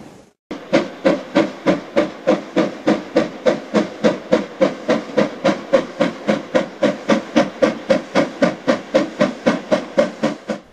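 Russian SU class steam locomotive hauling a passenger train, a loud, rhythmic chuffing exhaust beat repeating evenly and quickly from start to end, with hiss between the puffs.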